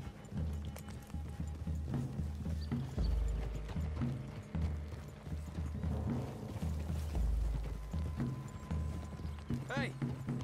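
Horse hooves clop steadily at a walking pace in the video game Red Dead Redemption 2, mixed with faint mechanical clicking and soft background noise, quiet and somewhat distant.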